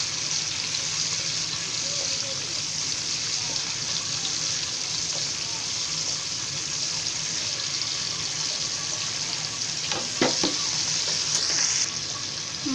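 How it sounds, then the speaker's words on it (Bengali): Parshe fish fry in a pan with a continuous, fairly loud sizzle, and near the end a spatula scrapes and knocks briefly as the pieces are flipped. "হালকা ভাজছি কারণ আমার মাছটা অনেক ফ্রেশ ছিল।"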